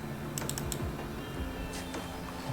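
Keys clatter on a computer keyboard as a short file name is typed, a quick burst of close, crisp clicks with no talking.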